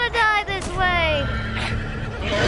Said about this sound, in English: Uh-oh, horses! Horses! Horses!